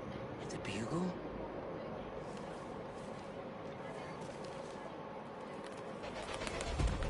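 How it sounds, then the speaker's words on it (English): Pigeon cooing, low and muffled, sits under a steady bed of noise and voices, with a brief louder coo near the start. "Hey, Pigeon! Stop!"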